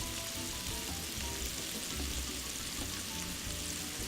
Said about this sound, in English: So let's stir up that pasta.